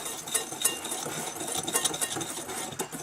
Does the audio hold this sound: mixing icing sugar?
yes